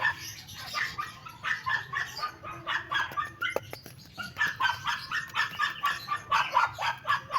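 A dog barks over and over in a fast, steady rhythm, fairly close, with birds faintly chirping in the background.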